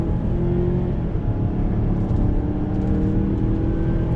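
A 2021 Mazda CX-9 Signature all-wheel-drive SUV pulls hard under throttle, a steady engine drone and road roar holding loud and close from start to finish with no talking.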